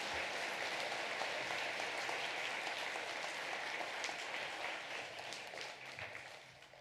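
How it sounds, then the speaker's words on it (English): An elementary school awards audience claps steadily for service award and spelling bee winners, a broad, even wash of applause from a mid-sized room that tapers off near the end. "Let's give our service award and our spelling bee winners a round of applause."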